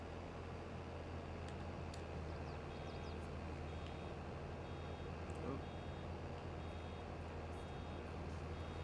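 Steady electronic warning beeps repeat at an even pace in a video game, quiet and thin over a constant low engine-like drone and hiss.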